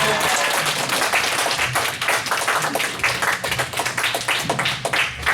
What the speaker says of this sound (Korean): 할렐루야 하면서 박수로 맞아 주시기 바랍니다